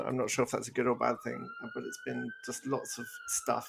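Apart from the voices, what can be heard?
emergency vehicle sirens in Vancouver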